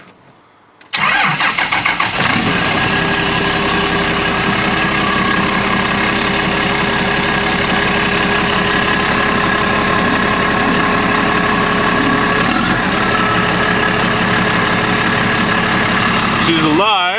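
A swapped Cummins diesel in a Ford cranks and catches after a short quiet moment, then settles into a loud, steady, close idle that runs to the end, with a brief dip midway.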